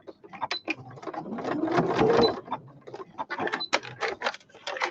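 A sewing machine is turned slowly by hand to form a single stitch while making a sewing machine cover, giving a close series of soft clicking, ratcheting mechanical sounds with irregular rhythm.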